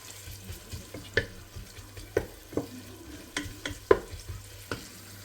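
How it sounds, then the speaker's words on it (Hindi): Onions frying in hot oil on a stove, a low faint sizzle punctuated by sharp scrapes and taps of a stirring spoon at irregular intervals, nobody speaking. "चूल्हा गर्म हो गया, तेल भी गर्म हो गया, प्याज डाल लिया।"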